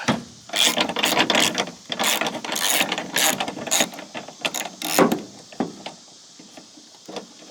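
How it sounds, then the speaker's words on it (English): A ratchet socket wrench works loose a big nut on an old flat-screen TV being scrapped, giving repeated close, loud bursts of rapid metallic clicking with brief pauses between strokes, then fading near the end. "Alright, we found the ratchet socket for it."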